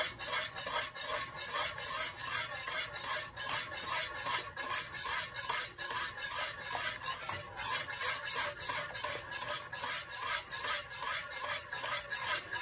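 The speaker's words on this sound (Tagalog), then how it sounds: "Walang tigil sa pag-stir, sa pag-mix, sa paghalo." Ube maja blanca mixture thickened with cornstarch being stirred in a pot over heat: a continuous, even, rhythmic scraping and rubbing that goes on steadily throughout, fairly quiet, with no voices.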